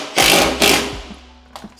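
A power drill drives a screw into wood in two short close whirring bursts, a third faint burst trailing off at the end.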